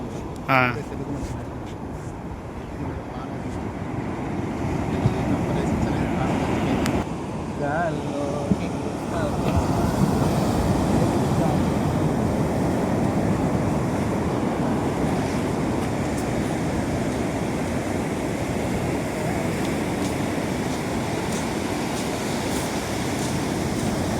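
Waves at Chirala beach give a steady, broad roar of surf that rushes on without a break, loud and close, with a few faint knocks early on.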